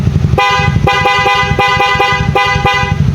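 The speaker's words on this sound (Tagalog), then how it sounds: "Ipapabusina po natin sa may-ari." A 2015 Yamaha Mio Sporty motorcycle's horn honks in a quick series of short, loud, close beeps with a buzzy tone.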